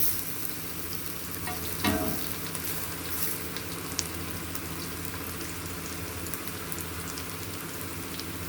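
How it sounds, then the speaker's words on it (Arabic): Fish grilling in a pan with no smoke sizzles in a steady, continuous crackle close by, with a faint clatter near the two-second mark and no talking. "ياخد بقى شوي على الوش التاني"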